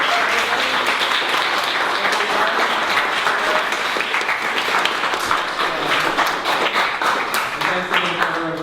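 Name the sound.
audience applause for the readers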